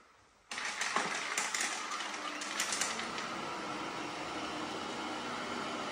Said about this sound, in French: Donc là, tout le monde a un aspirateur en route chez eux.